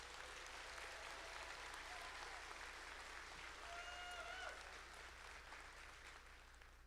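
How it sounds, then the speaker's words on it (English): Audience applause for graduates at a Roane State college commencement ceremony, a steady wash of clapping from a large crowd lasting throughout, with faint voices mixed in. "Another round of applause for our graduates, please"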